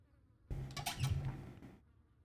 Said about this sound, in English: this guy got through the mosquitoes